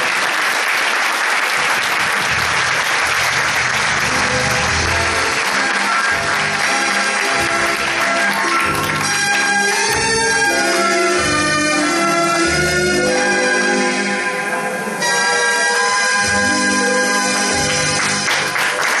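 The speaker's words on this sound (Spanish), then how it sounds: "¡Fuerte ese aplauso para él!" Loud, sustained audience applause at a Paral·lel variety show in Barcelona, with dense clapping filling the hall for the full stretch while music plays underneath and swells in the second half.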